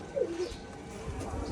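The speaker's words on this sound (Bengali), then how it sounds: "এটা মাদি পায়রা" A female Rajshahi pigeon gives a short soft coo near the start, then the scene settles into faint background noise.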